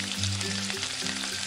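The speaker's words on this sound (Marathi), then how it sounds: "आता यामध्ये जी चटणी आपण मिक्सरमधून वाटून घेतली होती ना ती घालून घेऊ" Ground chutney hits hot oil already tempered with cumin and curry leaves, giving a steady, close sizzle and crackle that carries on without a pause through the short moment.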